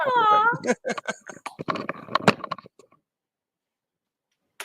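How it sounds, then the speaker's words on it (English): A house cat meows loudly to be let out of a room, a drawn-out wavering cry up front followed by a burst of shorter calls and rustling, then silence. "my cat needs to be let out of the room"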